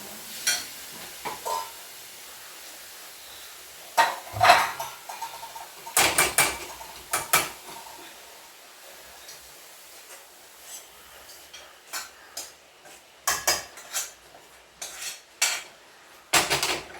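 A spoon scrapes and clinks against a metal pot while cooked raw jackfruit is stirred with seasoning, irregular clattering bursts separated by near silence, close by, with no voices.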